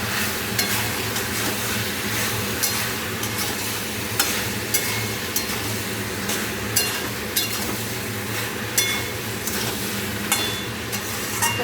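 Chicken being lightly sautéed and stirred in a pan, with a steady sizzle and scraping stir sounds throughout, plus a few sharper clinks against the pan, no voices.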